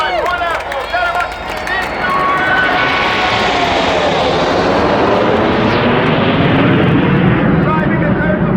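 Royal Air Force Red Arrows aerobatic jets roar over an airshow crowd, a loud continuous jet rush swelling and sweeping past for several seconds, with an announcer's voice over the start.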